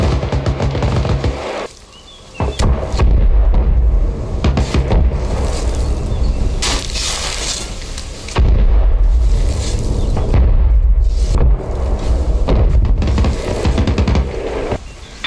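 Loud, continuous barrage of artillery explosions in the video game Arma Reforger, with heavy booms and rumbling blasts, several big impacts standing out, all crowding together with no pauses.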